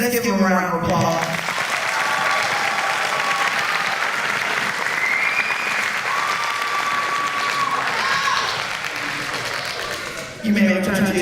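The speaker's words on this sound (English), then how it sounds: "Let's give them a round of applause." Sustained applause from a crowd at an eighth-grade promotion ceremony fills the room for several seconds. Scattered voices and cheers rise over the clapping before it tapers at the end.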